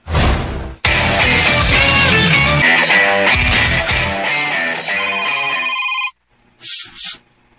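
In a radio drama, a telephone rings loudly and continuously, with a dense metallic bell trill that cuts off abruptly, followed by a short, fainter electronic chirp near the end.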